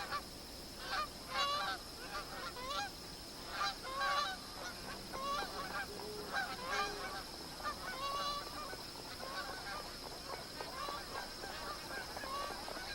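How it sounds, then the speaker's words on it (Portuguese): Magpie geese gathering at a billabong after leaving dry floodplain grassland, a flock honking in overlapping bursts at moderate distance over a constant hiss of insects or wind. "Os gansos malhados abandonaram o capinzal ressequido da planície aluvial e começam a se juntar no Billabong."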